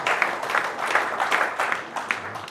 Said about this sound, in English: Give them 7 claps